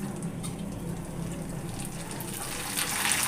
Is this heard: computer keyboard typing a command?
no